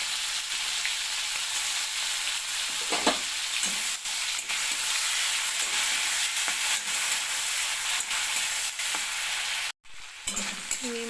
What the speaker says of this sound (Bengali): এবারে নুন হলুদ দিয়ে মেখে রাখা চিংড়ি মাছগুলো দিয়ে দেবো এক